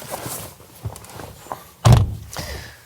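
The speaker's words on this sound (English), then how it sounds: "Let's pull back the frameless door and take a look inside" A frameless door on a MINI Electric hatchback is pulled open, making one close, solid thunk with the latch release, preceded by faint handling clicks and taps.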